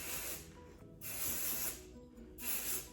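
Kevin Murphy texture spray misted onto hair in three close, loud aerosol bursts, each lasting under a second and separated by short pauses.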